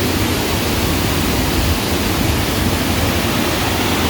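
Water pouring steadily over a dam on Neshaminy Creek in Northampton Township, a loud continuous broadband rush that fills the whole stretch without a break.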